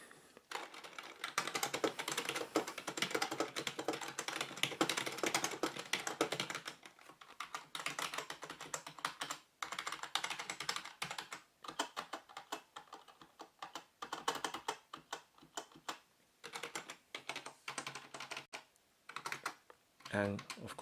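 Typing on a Perixx PERIBOARD-512II ergonomic split keyboard set on a hard surface: a long run of rapid, close key clicks with short gaps between bursts, sounding on its own.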